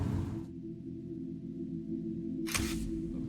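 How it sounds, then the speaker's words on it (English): A camera makes a low steady mechanical hum, then a brief bright shutter click about two and a half seconds in, close and distinct. "Shutter. Shutter open."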